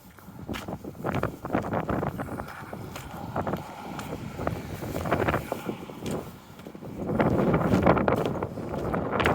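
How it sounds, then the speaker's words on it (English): Gusts of wind buffet a phone microphone while someone walks outdoors on a city street, a loud, continuous low rumble with bursts that swell and build toward the end. "Facing the wind a little bit here, so hopefully it don't get too noisy on the microphone of my phone here."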